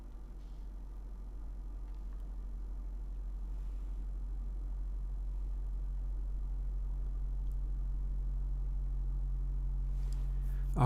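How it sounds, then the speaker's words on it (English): Hard wavefold saturation from an audio plugin pushes a steady low tone into an octave-up pitch doubling. A sustained droning buzz holds at a fairly even level, swelling slightly before cutting off abruptly at the end. "it's doing such a hard wavefold that it's pitch doubling"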